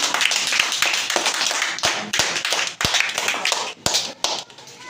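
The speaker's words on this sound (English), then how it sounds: "Clap for her." Children in a classroom clap for a classmate, a burst of quick, irregular hand claps with sharp taps near and loud, fading off toward the end.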